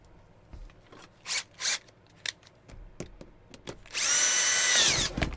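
Short bursts of a power drill whirring, several brief spins followed by a longer, louder run near the end, close by with no talking.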